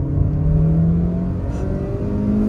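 The 1.5 litre MPI engine of a Kia Seltos hums steadily as the car pulls away and accelerates, a close, even engine drone with a rising tone and no voices.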